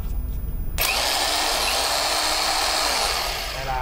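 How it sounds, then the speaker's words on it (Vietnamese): A Huspanda concrete demolition hammer running in drill mode after a short start-up, giving a loud, steady, high-pitched motor whine with a dense rattling drone heard close up and alone. "Đây là chế độ khoan của chúng ta."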